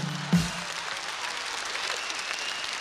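Audience applause fills a stage show, steady, dense clapping from a large crowd that carries on without pause after one sharp thump near the start.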